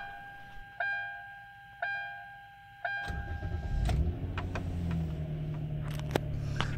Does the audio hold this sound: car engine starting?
yes